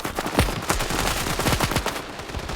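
Rapid bursts of automatic gunfire in the mobile shooter game Standoff 2, a dense run of sharp shots in quick succession, loud and continuous.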